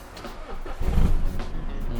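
A car engine turns over and catches, rising into a steady idle rumble close by.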